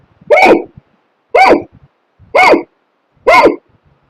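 A voice imitates a hiccup four times in a steady, evenly spaced rhythm, each sharp vocal catch loud and close with silence between, demonstrating a breathing technique for Ujjayi pranayama.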